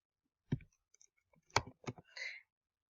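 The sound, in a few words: typing into a web form on a computer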